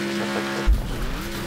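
A car in the Next Car Game crashes and rolls over. A tire-scrubbing engine note is cut by one sharp low thud of impact, followed by a rumbling tumble.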